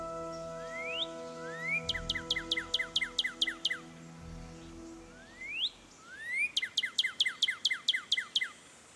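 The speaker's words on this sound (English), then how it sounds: "Northern cardinal." A taped Northern cardinal song in a Nancy Drew game: rising slurred whistles, then a fast run of about ten clear, downslurred whistled notes, repeated twice and heard alone.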